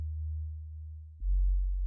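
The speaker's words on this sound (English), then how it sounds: "Basically what you have is a sine wave bass," A pure sine wave bass tone holds low and steady, then drops to a deeper, louder note for the final stretch, with nothing else sounding.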